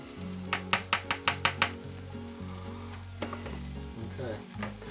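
Ground beef sizzles in a pan set back on a stovetop burner, a steady frying hiss beneath a quick run of six or seven sharp metallic scrapes and taps, then quieter stirring knocks. No one speaks.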